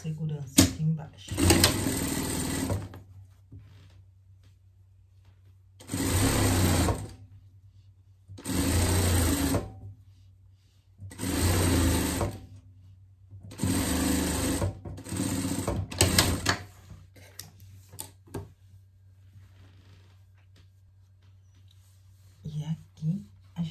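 Sewing machine running a safety seam along the bottom of a pet jester costume, heard close as about six separate bursts of steady whirring stitching, each a second or two long, separated by short pauses.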